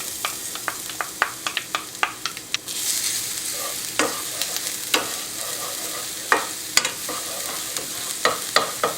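Minced garlic sizzles in hot oil in a pan, a steady close frying hiss broken by sharp crackles and pops through the whole stretch, with no talking.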